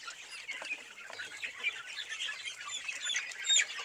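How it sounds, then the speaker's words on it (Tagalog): Indio Gigante chickens cluck and murmur together in a farm setting, a busy, moderately close chorus of short clucks with a few higher squawks toward the end. "Ito naman yung mga Indio Gigante natin."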